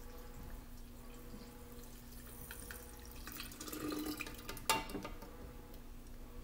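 Lemonade being poured into a container at home, a faint quiet trickle and splash of liquid with a brief louder splash near the end, no voices.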